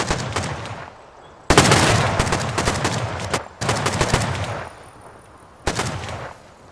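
Bursts of gunfire exchanged at night during a raid in the survival game Rust, with loud rapid volleys in three separate clusters separated by brief quieter gaps, no talking.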